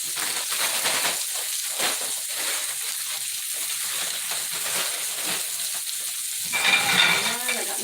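Filet mignon fries in a pan with a loud, steady hissing sizzle throughout, briefly swelling near the end.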